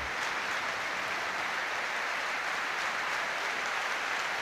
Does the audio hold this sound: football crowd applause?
yes